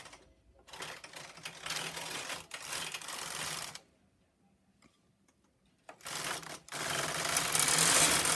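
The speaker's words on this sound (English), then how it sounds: "Set your carriage to KC and knit across to select the needles." A Brother knitting machine carriage set to KC slides across the needles in loud clattering, whirring passes, with a quiet gap between strokes and a final sustained pass.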